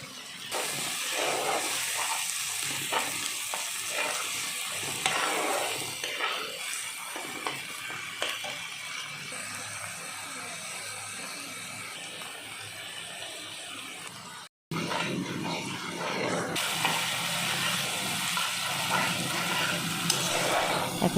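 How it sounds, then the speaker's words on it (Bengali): Spice paste with ground coconut and salt sautés in a pan with a little water for a coconut prawn malai curry, a steady loud sizzle and hiss with spatula stirring throughout, cut by one brief dropout near the middle. "এখন সবগুলো মশলা হালকা একটু জল দিয়ে ভালো করে কষিয়ে নেব"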